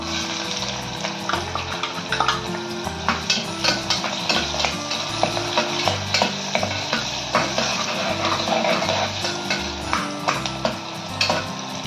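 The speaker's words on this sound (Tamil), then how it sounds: "ஆனியன் ஆட் பண்ணிக்கலாம்." Sliced onions frying in oil with cinnamon, cloves, cardamom and bay leaf for paneer biryani in a pressure cooker, a steady close sizzle with repeated scraping stirs and ladle clicks throughout.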